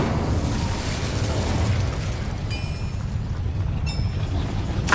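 Incendio fire spell cast in the video game Hogwarts Legacy, a sustained loud roaring whoosh of flame with bright sizzling crackles and pops layered through it.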